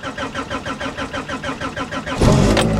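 A 1992 Suzuki Alto Works engine cranks with a steady rhythmic starter chug for about two seconds, then catches and fires into a loud, rough running roar, up close.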